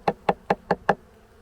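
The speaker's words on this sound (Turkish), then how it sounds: "şöyle bir vur, vursana bir Mehmet şeye kovana ne yapacak bakalım" Five evenly spaced knocks on a wooden beehive of breeding Carniolan bees, crisp and close, followed by a quiet tail with a faint low hum.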